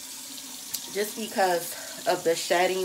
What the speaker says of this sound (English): I don't know why I'm running that water.